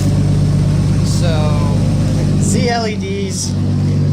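A Toyota Supra idles close by with a steady, low engine hum that runs the whole time. A voice talks over it.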